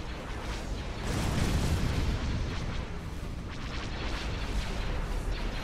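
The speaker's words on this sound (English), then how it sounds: "Hypervelocity cannon firing." Hypervelocity cannon firing in the Star Wars: Imperial Civil War strategy game, a heavy booming blast that swells about a second in, then continuing rumbling impacts and crackling explosions at moderate level.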